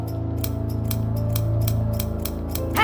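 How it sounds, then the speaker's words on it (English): Scissors snip rapidly and repeatedly in a horror video game, a steady train of sharp metallic cuts heard over a droning, ominous low ambience with no talking. "There's something unnerving about the sound of those scissors, snipping over and over and over"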